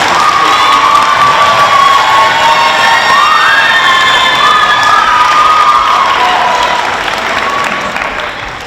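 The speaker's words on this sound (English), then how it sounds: "Please give them some applause for this." Loud, dense applause and cheering from a school geography bee audience, with children's shouts and whoops sliding up and down over the continuous clapping. It stays strong throughout and tapers slightly at the end.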